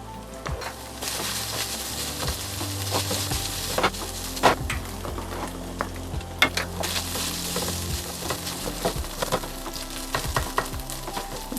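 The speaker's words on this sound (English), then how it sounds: "Stir my rice." Rice grains frying in a hot pan while being stirred, a continuous sizzle broken by repeated scraping clicks of the utensil, close and steady, with no voices.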